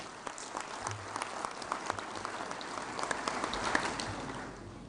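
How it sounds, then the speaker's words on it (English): A conference audience at an opening ceremony claps together in a fairly quiet, even patter of applause lasting several seconds, individual claps faintly distinct at a slight distance. "Shall we put our hands together for applause together?"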